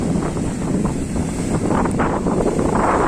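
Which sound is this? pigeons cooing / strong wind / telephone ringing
strong wind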